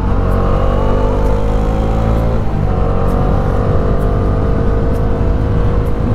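A 2022 Bajaj Dominar 400 BS6 motorcycle riding at speed, its exhaust giving a loud, steady droning note that dips briefly mid-way and then carries on without pause.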